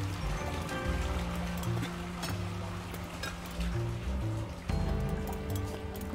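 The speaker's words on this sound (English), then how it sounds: "I'm hearing someone flushing." Rushing, gurgling water from a toilet flush in the video game Tinykin, running steadily for about six seconds beneath tonal game music, with a brief dip and renewed surge near the end; no one speaks.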